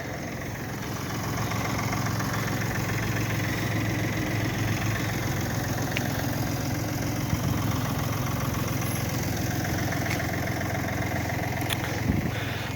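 A Kubota Aste A-195 mini tractor with a three-cylinder diesel engine idles nearby, giving a steady low chugging rumble with a faint metallic rattle that stays even for the whole stretch, with no voices.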